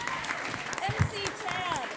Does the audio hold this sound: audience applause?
yes